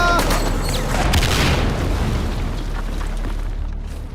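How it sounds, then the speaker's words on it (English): Mortar explosions in a WWII Pacific battle scene, a continuous loud rumbling roar of blasts and debris, dense and close, slowly fading toward the end. "Mortars are fucking vicious."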